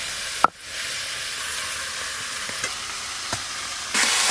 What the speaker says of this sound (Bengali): এইভাবে নাড়তে নাড়তে সবজিগুলো কিন্তু অনেকটাই কমে গেল। সব কিছু একটু হালকা করে ভেজে নিয়েছি।